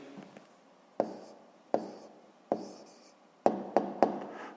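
Chalk or marker strokes writing an answer by hand on a board in a sixth-grade maths lesson, a series of sharp taps and short scratches, close and fairly clear, with no talking.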